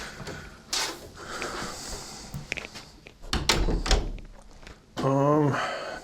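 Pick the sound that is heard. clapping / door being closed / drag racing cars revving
door being closed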